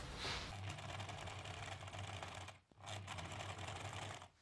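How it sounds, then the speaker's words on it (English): A sewing machine stitches a tunnel into a linen dress, whirring in a steady, close mechanical run that stops briefly midway and then resumes. "With 1 centimeter distance from the top stitch, I'm making another stitch below"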